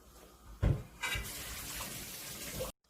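Soaked dried mushrooms washed under running tap water, a faint steady splash following a brief knock, ending suddenly.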